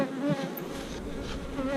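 Honey bees buzzing steadily inside a beehive holding three frames of bees, a close, continuous hum with no voices.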